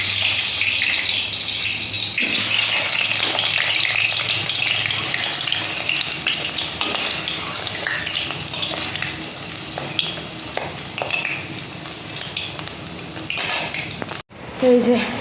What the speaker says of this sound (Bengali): সবার আগে একটুখানি আলুগুলো ভেজে নিই, মাংসের আলুগুলো ভেজে নিতে ভালো লাগে।